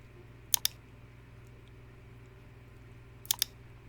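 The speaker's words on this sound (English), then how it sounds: "We're going to click on lab grown." A computer mouse clicks on a website: two quick double-clicks, one early and one near the end, crisp and close over a quiet background hum.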